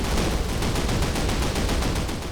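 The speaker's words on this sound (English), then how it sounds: "God, I love the flak cannons, the AA just going off there, and the tracer fire sailing into the sky" Steady rapid anti-aircraft flak cannon fire at night in a Call of Duty game set in St. Mere Eglise, a dense rhythmic barrage of thumps filling the whole stretch at even loudness.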